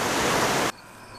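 A waterfall found while geocaching roars as a steady, broad rush of falling water, then cuts off abruptly to near silence.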